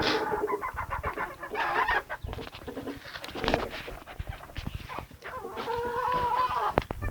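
Several chickens, including young ones, cluck and squawk close by in a busy, overlapping chorus, with a rooster calling among them and scattered rustling.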